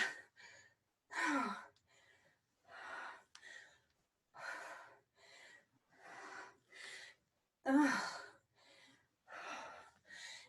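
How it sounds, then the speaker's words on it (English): A woman breathes heavily during a leg workout: loud, close gasps and exhales come in an uneven rhythm, with short pauses between breaths and no other sound. "I swear I'm trying not to breathe heavy. I'm sorry if it's so loud."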